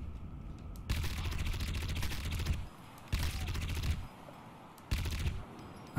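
Bursts of rapid automatic gunfire in the Crysis video game, three loud sustained volleys separated by brief pauses, with no talk over them.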